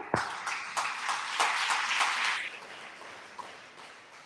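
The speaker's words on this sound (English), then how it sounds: "How about give up a round of applause?" An audience at a business luncheon gives a round of applause, a dense patter of hand claps that swells, holds for a couple of seconds, then thins out and fades.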